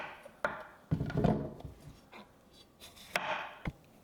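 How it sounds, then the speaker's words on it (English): A knife chops through a large zucchini on a cutting board, a few sharp, close thuds as each end is cut off, spaced irregularly across a few seconds. "We're going to start by cutting each end off of the zucchini and then cutting it open."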